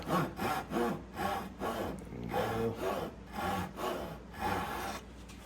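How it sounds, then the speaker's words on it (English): Hand saw cutting wood for an acoustic guitar end graft, about a dozen rhythmic rasping strokes back and forth, close and clear with no talking. "I'm going to cut right where I scribe those little lines at"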